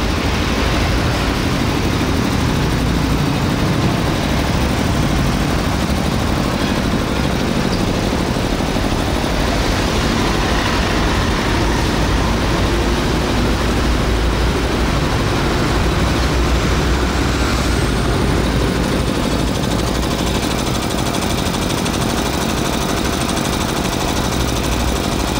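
Hitachi 2 hp three-phase electric air compressor, Japanese-made with original paint, running steadily: a loud, continuous motor and pump drone that holds unchanged throughout with no voices.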